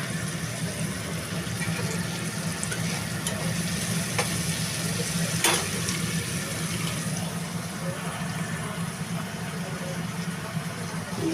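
Onion frying with salt in a pan while prawn curry is being cooked, making a steady, moderate sizzle throughout, with a couple of sharp clicks and a voice faintly present in the background.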